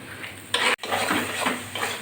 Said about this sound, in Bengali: চিকেনটা আমি ভালো করে ঢাকা দিয়ে দিয়ে খুলে খুলে নাড়াচাড়া করে দিচ্ছি ভালো করে কষিয়ে দিচ্ছি